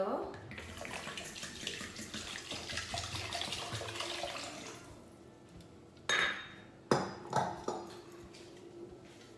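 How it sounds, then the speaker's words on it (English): Water pours into a cooking vessel with sugar for syrup, a soft continuous splashing trickle that fades, followed by a few faint clinks of the pot. "Then add water."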